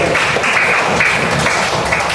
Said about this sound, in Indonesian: Tepuk tangan buat Devin